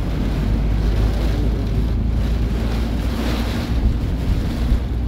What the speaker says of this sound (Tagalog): Ang lakas ng hangin na yun, no?